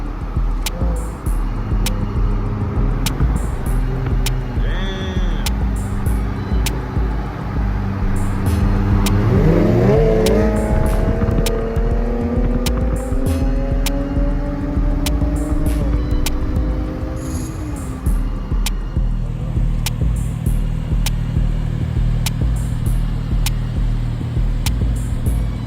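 A loud car with a 5.7 engine passes close by on a downtown Dallas street, its engine note rising and sweeping as it accelerates, then fading into steady traffic rumble.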